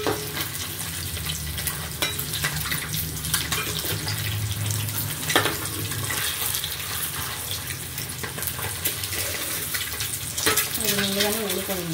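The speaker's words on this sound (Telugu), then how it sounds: "కొంచెం ఈ రెడ్డిష్ కలర్లో వచ్చేలాగా చక్కగా వేయించుకుందాం." Onions or spices fry in a pan for Andhra-style egg curry, a continuous loud sizzle with stirring and scraping throughout, alongside running water.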